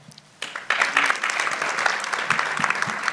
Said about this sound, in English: you're supposed to applaud at the end of all their accolades